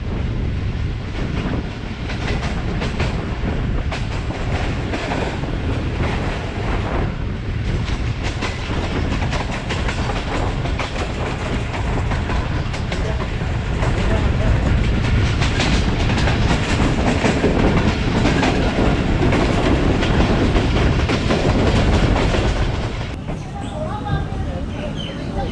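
The Fareed Express train runs along the tracks with a loud, continuous rumble and rattling clatter heard from on board, steady throughout and easing slightly near the end.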